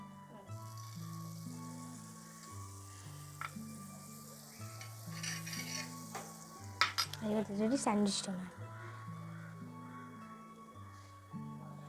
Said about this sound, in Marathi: मग तव्यावरती थोडं बटर टाकणार